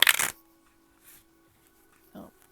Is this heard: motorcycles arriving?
no